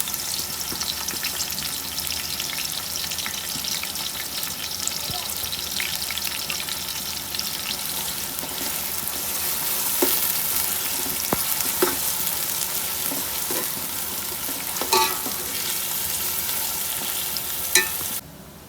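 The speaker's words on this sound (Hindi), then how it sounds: "अब इसमें मैं प्याज डाल दूँगी। प्याज को फ्राई करके निकाल लेती हूँ।" Onions fry in hot oil for a homemade korma, giving a loud, continuous close-up sizzle and bubbling with occasional stirring and scraping throughout, and no voices.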